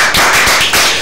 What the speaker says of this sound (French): On peut s'applaudir pour notre présence.